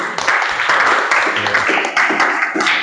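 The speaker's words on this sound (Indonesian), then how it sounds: "Tepuk tangan buat Mas Anam sama Mas Ferdi" Brief applause in a mechanical engineering teaching session for two presenters, moderately loud with voices over it.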